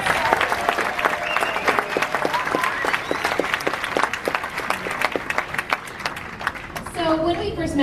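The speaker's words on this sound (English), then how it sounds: "Please give them another round of applause." An audience applauds a band after a live music set, loud and sustained with sharp individual claps standing out near the front, then tapering toward the end as a voice briefly speaks.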